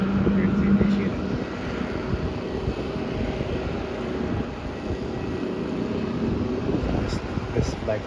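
An airplane at Melbourne Airport gives off a steady, moderately loud broadband roar that holds fairly even throughout, with a faint tonal hum underneath.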